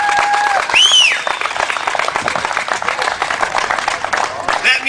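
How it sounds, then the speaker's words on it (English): A political rally crowd in Lansing applauds, a steady roar of clapping with scattered cheers and a whistle near the start, fairly loud and continuing for several seconds. "Please applaud for that."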